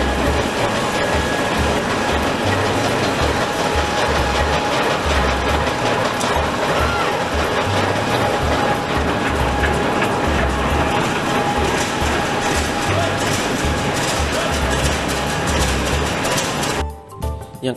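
A CC200 diesel-electric mainline locomotive in Indonesia runs on rails with a loud, continuous rumbling roar and rolling clatter that holds steady, then drops away abruptly at the very end.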